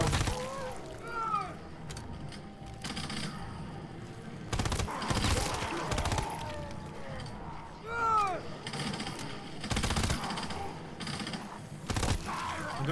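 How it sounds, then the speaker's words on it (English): Zombies are shot in a video game with higher-level ammo, bursts of gunfire striking them with splattering, breaking impacts at irregular intervals, mixed with groans and shrieks and a voice talking in between. "We had more fun shooting them."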